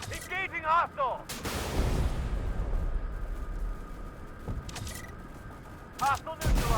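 Anti-tank guided missile strikes in the sci-fi drone combat game Drone Sector land as loud booming impacts with a long rumbling tail, as a synthetic voice speaks briefly before and after.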